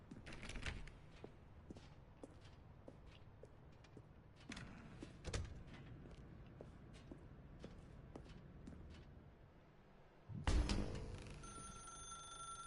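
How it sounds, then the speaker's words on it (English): A telephone rings in a dark room in The Stanley Parable video game, a bright electronic ring that bursts in near the end after quiet clicks and shuffling footsteps, with no talking. "Now pick up the phone."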